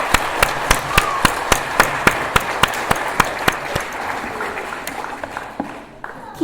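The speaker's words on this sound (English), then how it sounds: "Let us give her a big round of applause." An audience claps after a dance piece at an arangetram. Sharp claps land in a steady, evenly spaced rhythm over a constant crowd murmur, then fade near the end.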